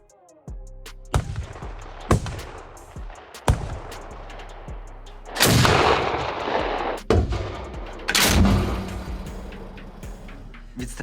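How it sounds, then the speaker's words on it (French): Several loud, heavy booms at irregular intervals, each followed by a rumbling decay, as the cannon of a Swedish PBV 302 armored vehicle fires outdoors. "le canon est chargé, et maintenant nous allons effectuer le tir."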